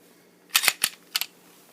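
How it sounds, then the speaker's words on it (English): Smith & Wesson SW99 pistol slide racked to the rear and released: a few sharp, close metallic clicks and clacks in quick succession, with a last pair of crisp snaps as the slide closes. "pull it all the way to the rear, release it, and your pistol is reassembled."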